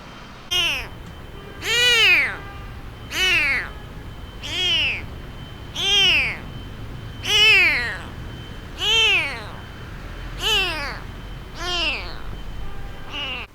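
A sick stray kitten with badly damaged, blind eyes meows about ten times in a steady rhythm, each cry loud, close and high-pitched with a falling tail, separated by short pauses over faint background noise.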